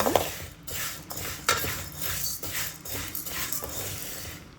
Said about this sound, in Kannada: ಇದನ್ನು ಸ್ಟವ್ ಹಚ್ಚಿ ನೀಟಾಗಿ ಉರಿತಾ ಇದ್ದೀನಿ.